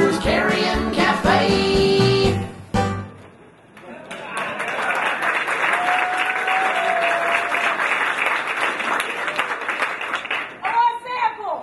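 A crowd at a Texas Furry Fiesta 2012 stage skit breaks into loud, sustained applause and clapping for several seconds, following a brief burst of voices and music at the start.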